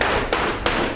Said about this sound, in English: the guys are hammering out the aluminum in the shapes necessary, hammer welding them together